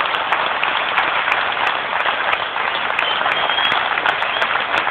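Sustained crowd applause at a demonstration at Jinnah International Airport, dense steady clapping from many people, loud and continuous throughout with no talk over it.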